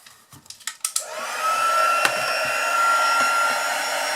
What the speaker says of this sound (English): Back in with my heat tool.